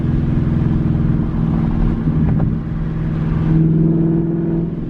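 A 2021 Ford Mustang GT with an X-pipe exhaust drones steadily from inside the cabin, a loud continuous low engine tone that shifts pitch midway as it downshifts, then settles back into a sustained rumble.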